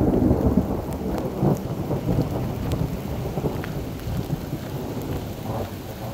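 Steady rain patters loudly on a mountain trail while low distant thunder rumbles underneath, with scattered sharp drops hitting close by.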